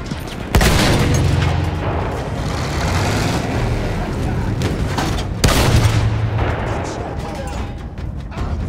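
Field guns fire in the video game Battlefield, two heavy booms arriving a few seconds apart, each followed by a long rumbling decay under ongoing game noise.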